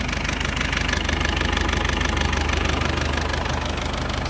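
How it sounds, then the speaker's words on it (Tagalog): A freshly overhauled car engine idles with a fast, even, rhythmic chugging and a slight knock, loud and near, running alone without voices. "Muna siya nabuo na ni siya guys ang akong gi-overhaul nga katong pahubsan og oil."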